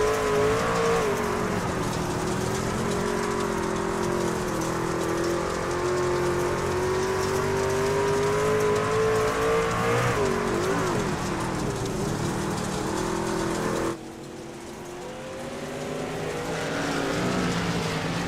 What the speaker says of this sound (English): Listen to that throttle wobble.